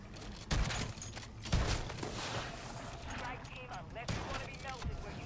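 Rapid gunfire bursts from a weapon in Call of Duty Modern Warfare 3 zombies mode, with sharp loud shots near 0.5 and 1.5 seconds amid busy game noise, and voices talking over it.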